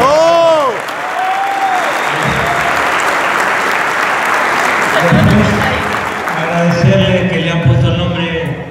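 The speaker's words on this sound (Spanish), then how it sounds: "A todos, ¿eh? Un aplauso." Crowd applause at a fan club gathering, a steady broad wash of clapping lasting throughout with cheering and voices rising over it near the start and again toward the end.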